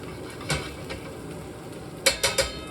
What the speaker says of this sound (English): Keep stirring the pasta.